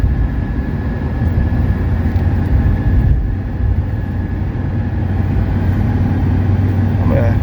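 A 1982 Mercedes 300SD diesel drives along with a loud, steady low engine drone and road rumble as it slows down, heard from inside the car with a voice speaking over it.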